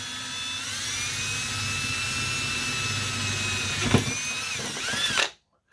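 A drill whines at a steady high pitch, boring a 1/8 inch hole in a copper rod, running continuously up close with a brief bump near the end before it cuts off.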